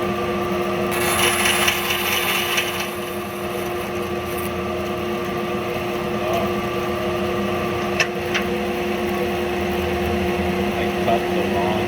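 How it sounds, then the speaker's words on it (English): A bandsaw rips through a piece of wood for an axe wedge with a continuous loud rasping buzz, brighter at the start of the cut and steady afterward, with a couple of sharp knocks near the end. "now I'm gonna cut it on the bandsaw"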